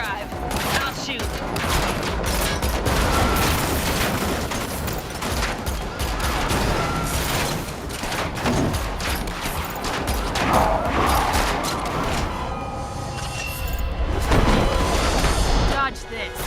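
Dense, continuous gunfire and explosive booms from an Unreal-engine video game shootout, loud and sustained across the whole stretch, with voices talking over the action.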